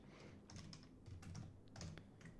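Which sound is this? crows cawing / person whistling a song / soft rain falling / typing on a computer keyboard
typing on a computer keyboard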